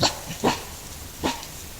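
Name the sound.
animal giving alarm barks to its pack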